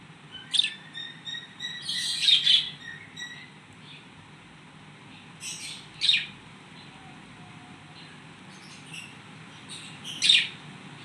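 Pet budgerigars feeding together, with sharp bursts of chirping and squabbling calls at irregular intervals, close and clear over a low steady background.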